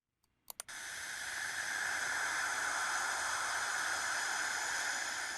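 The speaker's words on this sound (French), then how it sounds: "Ce sifflement est produit par des particules chargées dans l'environnement." A few sharp clicks, then a steady broadband hiss like static, produced by charged particles around the Cassini probe between Saturn and its rings, filling the rest of the clip evenly.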